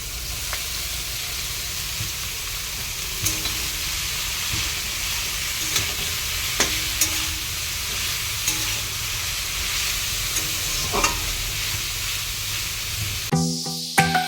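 Chopped banana stem sizzles steadily in a hot pan, a continuous close frying hiss broken by occasional clinks and scrapes of stirring, ending with a brief louder clatter.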